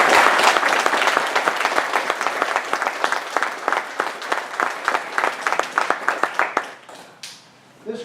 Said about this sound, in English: I'd really like to give Sandy a round of applause for what she's done.